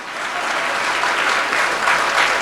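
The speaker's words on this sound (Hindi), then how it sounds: "आप सबके लिए जोरदार तालियां" Sustained, loud applause from a seated audience at an Independence Day and Shri Krishna Janmashtami cultural programme, a dense steady clapping that holds at even strength throughout with no talk over it.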